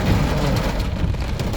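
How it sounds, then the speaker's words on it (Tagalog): Heavy rain pouring inside the Magallanes tunnel in Makati, a dense, steady roar of water and runoff with no break, loud and close throughout. "ang lakas ng ulan, lakas ng tubig, ng agos galing sa taas"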